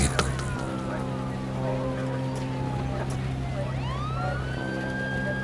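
A police siren wails over traffic at a road accident scene where the road is jammed, a sweeping tone rising and falling under a steady hum, fairly distinct and mid-distance.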